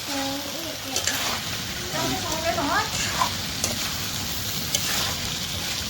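Cut potatoes go into an Assamese broiler chicken curry frying with ginger and garlic paste, sizzling steadily with scraping and stirring from a spoon; a faint voice surfaces briefly.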